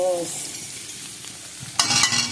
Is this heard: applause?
no